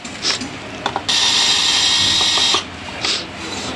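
Screws come out of a Daikin aircon circuit board during disassembly, with close, clicky mechanical whirring in short bursts and one longer continuous run in the middle, over faint background noise.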